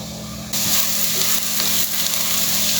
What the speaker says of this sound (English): We will saute it till it is nice and translucent.